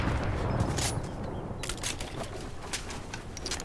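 Heavy sniper rifle shots in Fortnite gameplay, a few sharp cracks spaced apart, loud and close, with dense game noise underneath and no talking.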